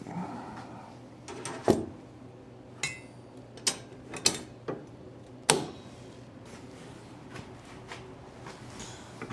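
Steel angle iron being clamped in place on a miter saw station build: scattered sharp metallic clanks and ticks, close by, spaced irregularly against a quiet shop background.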